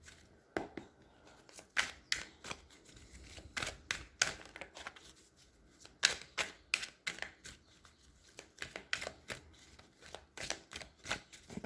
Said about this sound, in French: Je vais prendre mon tarot pour ça. Ouais, je prends une ou deux cartes du tarot pour voir.